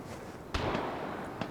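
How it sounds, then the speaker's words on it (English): Distant gunshots in the video game Vigor, two or three muffled cracks spaced over a second or so against a steady background rumble. "Some more gunshots going on."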